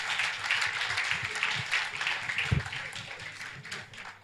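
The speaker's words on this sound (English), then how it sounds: "Big round of applause for him." Audience applause at an international forensic medicine conference in Rwanda as a lab director is welcomed, a sustained round of many hands clapping with a few sharper individual claps and a brief louder thump partway through.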